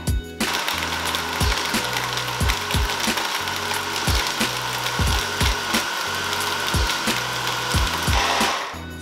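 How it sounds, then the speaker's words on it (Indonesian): A blender runs loudly and continuously on fresh strawberries with ice cubes, its rough grinding churn broken by a rapid series of regular knocking thumps as the ice is crushed. "Lalu kita blend."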